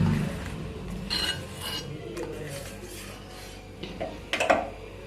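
Dishes and utensils being cleaned up in a home kitchen after making bread pakoras, with soft scraping and clinking of cutlery and pans that grows into a few louder clatters near the end.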